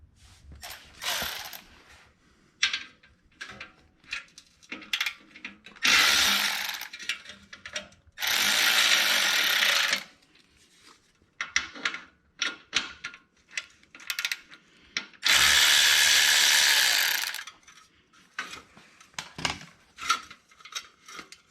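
An 8mm ratchet loosening the exhaust hose clamps on a Harley-Davidson Sportster, giving close, sharp clicking bursts interrupted by several longer, louder stretches of continuous rapid ratcheting, with no talking.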